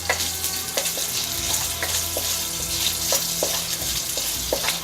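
Lard sizzles and fries steadily in a pan, with a constant hiss and scattered sharp pops and crackles as the fat heats, and no talking over it.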